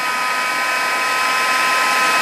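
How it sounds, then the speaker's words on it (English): A heat tool blows steadily at close range with a constant whooshing hiss while it melts embossing powder, alone with no talk. "Bring in the heat tool and just hold it against the embossing powder until it changes"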